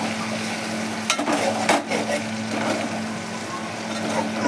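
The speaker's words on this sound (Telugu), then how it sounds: "టమాటోస్ వేసుకుందాం. మంచిగా మిక్స్ చేసుకుందామండి." Tomatoes being stirred into a pan of potato fry, a steady soft sizzle with scraping clatter of the spoon against the pan, close and continuous.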